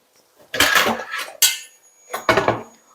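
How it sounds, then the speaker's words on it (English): A buttered blunt knife scrapes and clinks against a metal muffin tin while loosening apple and cinnamon muffins, giving three short bursts of scraping and knocking close up, with quiet gaps between them. "Using a buttered knife, don't use a pointy knife because it'll scrape your tin"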